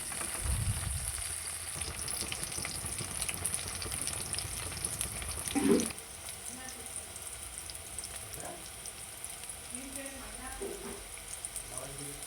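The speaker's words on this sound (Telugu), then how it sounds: "ఆ ప్యాన్లోని వంకాయ ముక్కలు వేసుకొని మగ్గించుకోవాలి" Eggplant pieces cook in a pan for a Telugu-style eggplant-tomato chutney, giving a steady broad sizzle throughout with a brief louder clatter near the middle and small scraping touches afterward.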